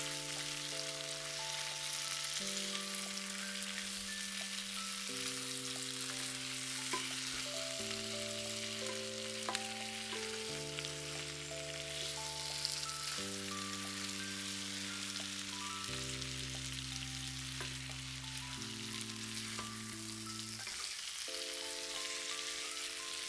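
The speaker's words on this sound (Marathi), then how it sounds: "सर्व मसाला भाज्याला छान असा कोट झाला पाहिजे." Vegetables coated in masala fry and get stirred in a pan for veg dum biryani, a continuous soft sizzle beneath a steady melodic background tune.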